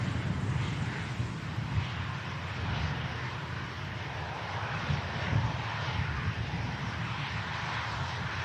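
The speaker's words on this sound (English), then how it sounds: "Here's the beautiful 350, the Virgin Atlantic Queen of Hearts on the way out." A Virgin Atlantic Airbus A350 named Queen of Hearts departs along the runway at Manchester Airport, its engines a steady, distant low roar with some wind rumble, and no talking.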